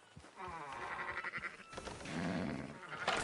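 A sheep bleating in Red Dead Redemption 2, two drawn-out wavering bleats following one after the other, close and clear with no talk.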